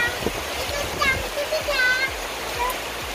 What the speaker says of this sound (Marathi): हा दिवसभर पाऊस आहे